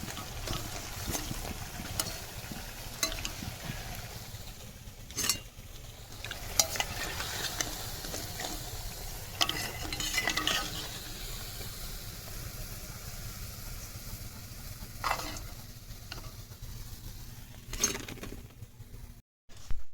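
Bottle gourd pakoras finishing in hot oil in a Sundarbans village kitchen, a soft, steady sizzle with scattered utensil clinks and scrapes, then a sudden brief quiet near the end.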